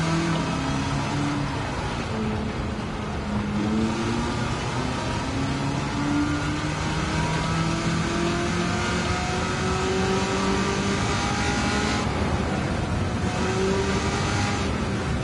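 A Nissan S14 Silvia with a swapped, larger engine accelerating hard in Gran Turismo 7, its engine note climbing steadily through several gear changes, droning loud and continuous throughout with no voices.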